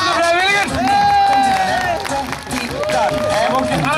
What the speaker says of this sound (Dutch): Applaus voor de vrijwilligers!